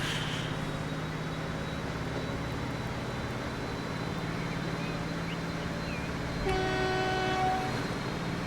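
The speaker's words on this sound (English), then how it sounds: "But I can honk the horn." A train horn sounds in the Transport Fever 2 video game, a sustained multi-tone blast of about two seconds near the end, loud over a steady rumble of rolling train and ambient game noise.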